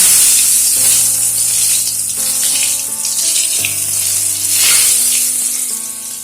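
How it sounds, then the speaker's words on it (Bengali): Eggplant slices fry in hot oil, giving a loud, steady sizzle that swells and eases slightly, with soft tonal music underneath. "বেগুনগুলো কিন্তু খুব সুন্দরভাবে ভাজা হয়ে গেছে"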